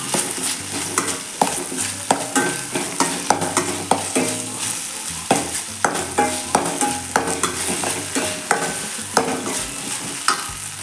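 Curry leaves fry in hot oil for mushroom masala, crackling and sizzling steadily while a spoon scrapes and stirs the pan in repeated, rhythmic knocks.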